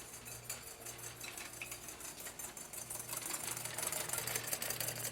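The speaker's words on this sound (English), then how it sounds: "I'm just gonna keep whisking." A whisk beats hollandaise sauce in a pan with a fast, steady, rhythmic scraping and ticking, quiet and close, growing slightly stronger toward the end.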